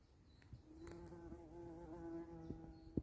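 A bee buzzes among bluebells and violets in a Cornish woodland, a quiet close hum that wavers and shifts pitch as it works the flowers, with faint background ambience.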